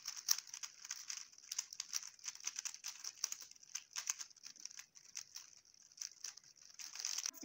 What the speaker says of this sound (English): Sriram, shuffle my cube. You shuffle my cube.